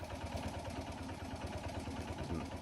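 A mid-pitched engine idles and chugs steadily in the video game Martha is Dead, an even, rhythmic rumble with a faint clatter and no voices over it.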